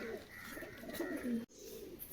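Pigeons in Kozhikode give soft, rolling coos close by, a few drawn-out low calls broken by a sudden short gap, with no one talking.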